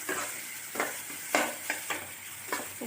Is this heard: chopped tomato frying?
yes